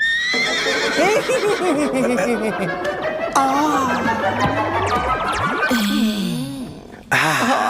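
A voice mimics a horse's whinny, long and wavering with rising and falling pitch, loud and close, followed by a brief high squeal.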